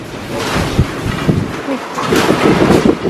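Strong storm wind in Taiwan gusting hard and continuously, a loud rushing roar battering the microphone throughout, with a brief voice in the middle.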